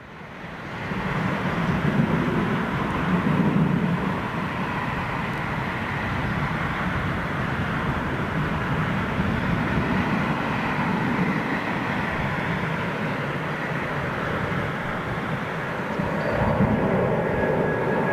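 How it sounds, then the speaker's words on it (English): A Middle East Airlines Airbus A330 comes in to land in a crosswind, its engines giving a steady, broad jet roar that holds loud and unbroken for the whole stretch, with no voices. "Middle East Airlines A330"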